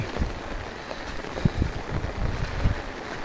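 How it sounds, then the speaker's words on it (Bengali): Heavy rain pours onto a flooded road, giving a steady, dense hiss with no break from start to finish. "রাস্তা এত পরিমাণ বৃষ্টি হচ্ছে।"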